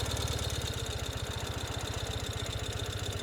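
A 2021 Ural motorcycle with a sidecar-style two-wheel drive sits in first gear with its engine idling, a steady, close, low rhythmic thumping pulse that runs evenly without any voices.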